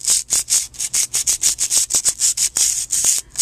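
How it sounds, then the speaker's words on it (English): Sandpaper is rubbed back and forth against a metal clay sculpting blade to sharpen it and strip old gunk, producing a rapid, even series of close, loud scratchy strokes, about five per second. "I find it's easier to move the sandpaper."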